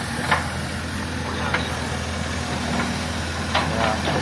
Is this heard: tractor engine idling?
yes